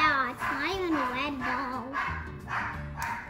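A dog yips, whines and barks in short bursts, fairly close, with people talking over and between the calls.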